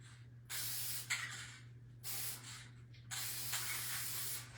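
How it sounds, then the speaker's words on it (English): Mod Podge matte spray sealant hisses from an aerosol can onto a vintage primitive rabbit picture frame in three separate bursts. Each burst is steady and close, with short pauses between them and a faint low hum underneath. "I'm gonna spray this with Mod Podge matte spray."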